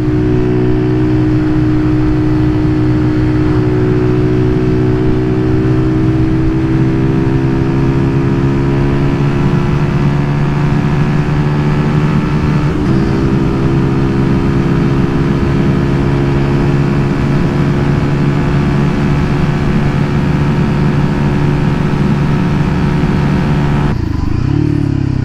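A Zontes Roadster R 125 motorcycle fitted with a new exhaust hums at steady road speed, its engine tone drifting slowly in pitch. A brief shift comes midway and a sharper change near the end, all loud and close over wind noise.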